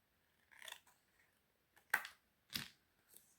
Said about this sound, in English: I'll just cut that to the right size.